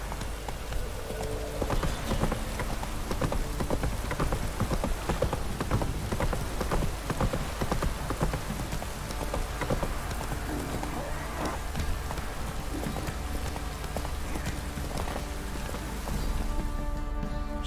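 Horse hooves clip-clopping through rain in a video game, a steady rhythmic trot mixed with the patter of rainfall and a constant wet background wash, no voices.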